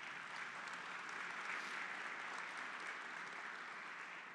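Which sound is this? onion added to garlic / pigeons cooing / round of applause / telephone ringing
round of applause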